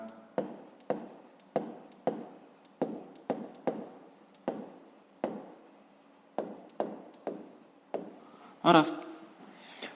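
Pen writing a math answer by hand on paper, a series of quick close scratchy strokes in an irregular rhythm, with a louder rustle near the end.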